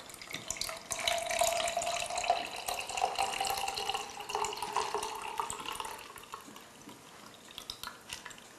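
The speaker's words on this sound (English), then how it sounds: "So we're just going to pour this out." A cranberry Manhattan cocktail pours out through the screen strainer built into a shaker top, making a steady splashing liquid stream for about six seconds before it thins to a few scattered drips.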